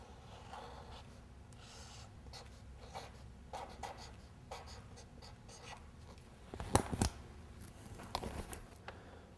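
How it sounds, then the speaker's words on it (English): A marker or pencil scratches a station number onto a wooden mold in a woodworking shop, quiet steady strokes with a few louder scrapes near the end, no talking over it. "don't forget to write the station number on there so you don't get them mixed up."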